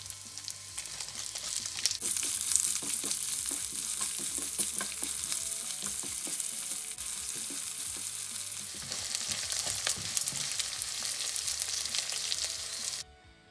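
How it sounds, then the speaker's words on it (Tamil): Mustard seeds, curry leaves and dried chillies tempering in hot oil with onion for an onion flower poriyal give a steady, loud sizzle with crackling pops and occasional stirring scrapes, carrying on without pause before stopping abruptly at the end. "கடுகு, கருவேப்பிலை, செத்தமிளகாய் எல்லாத்தையும் போட்டு கொஞ்சம் தாளிக்க வேணும்."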